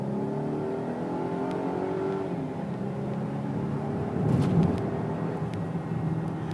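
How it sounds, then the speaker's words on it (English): A Volvo XC90 T5 AWD Momentum SUV accelerates on the road, its engine droning with rising harmonic tones and steady road rumble, swelling briefly louder near the end, heard from inside the cabin without talk. "it gives you an opportunity to take a glimpse of the movement of the vehicle as I was accelerating"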